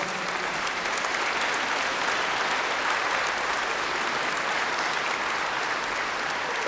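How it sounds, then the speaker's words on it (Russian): A concert-hall audience at a gala concert marking the centenary of a Russian thinker gives steady, even applause, heard at a moderate distance. The sound is continuous and unbroken for the whole span. "Эти аплодисменты звучат вам и для вас."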